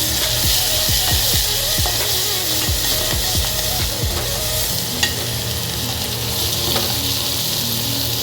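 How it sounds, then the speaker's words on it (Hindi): Onion, green chili, cumin and asafoetida sizzle in hot oil for a tempering, with steady frying hiss and repeated stirring scrapes of a spoon in the pan, close and continuous. "यहाँ पे मैंने प्याज, हरी मिर्च, जीरा, हिंग का तड़का लगा दिया।"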